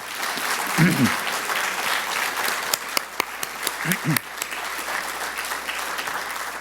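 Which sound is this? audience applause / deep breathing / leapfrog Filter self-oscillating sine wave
audience applause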